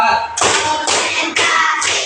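A classroom of students clapping together in a chant-along count, with four loud, sharp group claps spaced roughly half a second apart, close and dominant.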